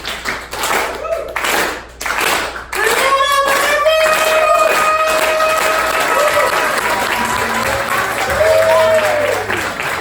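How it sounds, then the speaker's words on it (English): An audience at Schubas in Chicago applauds for a comedian, starting with slow, separated claps that quickly build into sustained, loud clapping with some whoops from the crowd. "Can we start with a slow clap and build it up like it's a big wonderful moment?"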